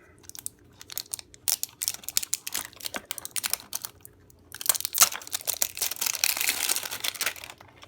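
Cardboard and plastic packaging of Mattel Masters of the Universe Minis Series 1 blind boxes being cut and torn open at close range: sharp crinkling, tearing and clicking, building into dense continuous crackling near the end.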